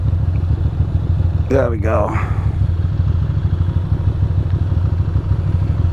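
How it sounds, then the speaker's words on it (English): Ducati Monster 620 motorcycle engine idling steadily close by, not yet warmed up and fairly quiet, a low continuous rumble through the whole stretch, with someone speaking briefly over it. "I don't remember this bike being this quiet."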